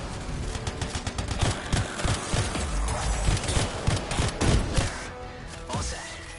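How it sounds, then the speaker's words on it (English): Sci-fi trap explosions in the video game Anthem, heard as a rapid, dense series of sharp bursts and crackling blasts that continue for several seconds, fairly quiet and with no talk. "It'll be a contained explosion."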